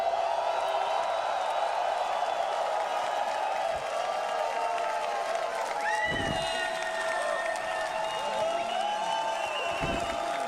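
A stadium crowd at the Dota International esports tournament cheers and roars in a sustained, loud wash of voices, while an announcer speaks over it through a public address system.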